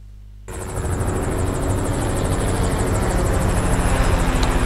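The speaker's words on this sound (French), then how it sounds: "Un hélico ne peut jamais voler très longtemps tout seul, donc il va se repoutrer." A helicopter in the Resident Evil 6 video game starts abruptly, then holds a steady, dense rotor roar with a fast, even chopping pulse that grows slightly louder and continues without a break.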